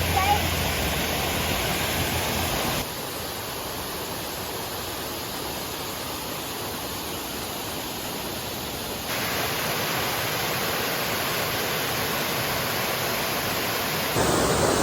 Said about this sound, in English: This is the waterfall of the boyfriend and girlfriend, Velo de Novia.